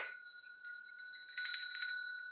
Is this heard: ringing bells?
yes